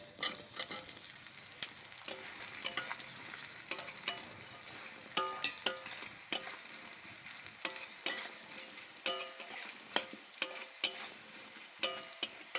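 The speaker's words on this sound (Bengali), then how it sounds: "যে আলুগুলো আমরা ভেজে নিয়েছিলাম সেই আলুগুলো এবার দিয়ে দেবো আমরা" Previously fried potatoes go into a hot pan with oil and asafoetida for a vegetarian semolina kofta dish, sizzling steadily while a utensil stirs and scrapes in sharp, irregular clicks, close and moderately quiet.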